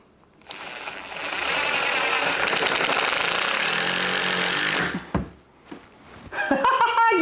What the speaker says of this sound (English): We're gonna go ahead and get our right angle attachment with our drill, and let's see if we can't get a screw in there.